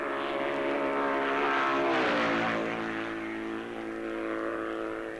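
BMW racing motorcycles at the 1978 Isle of Man TT roar past with a loud sustained engine drone that swells and then slowly fades as they pass by.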